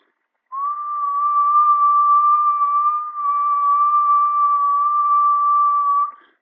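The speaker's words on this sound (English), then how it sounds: "what would happen if I stop talking and I start doing a whistle" A person whistles one steady, sustained note for about six seconds, clear and close, with a brief breath break midway and no talking.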